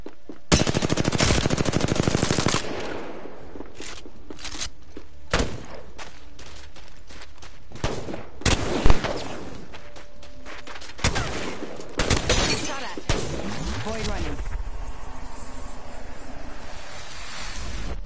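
Gunfire in a video game: a long loud automatic burst at the start, then scattered single shots and short bursts with quieter gaps between them.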